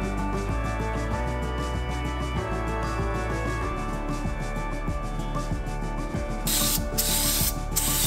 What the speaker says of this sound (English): I'm gonna go ahead and shoot a little bit of acetone through just to make sure there's no gunk in the gun